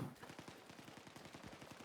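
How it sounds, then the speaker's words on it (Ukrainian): Rapid bursts of sniper gunfire from a tower in the video game Battlefield 6 REDSEC crack in a steady rhythm, several shots in quick succession with a faint voice briefly at the start. "Хто стріляє? Снайпер. Снайпер з башні."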